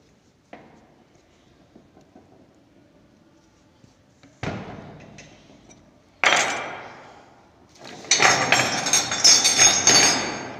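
A wrench tightens a 14 mm nut on a bike engine during assembly, giving sparse metallic clicks and taps that build into a denser burst of ratcheting clinks toward the end, close by.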